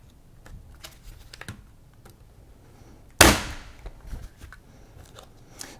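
Canvas being stretched over a frame, with one sharp, loud staple-gun snap partway through amid faint handling clicks and rustles.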